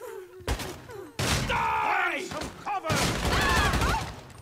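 Bursts of gunfire in a video game, several sharp shots and volleys scattered among in-game groans and thuds, with the player's voice talking over parts of it.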